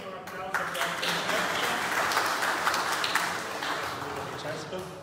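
Audience applause for a speaker at a World Refrigeration Day seminar, a broad crowd of clapping that swells in after a short start and carries on steadily, with some voices mixed underneath.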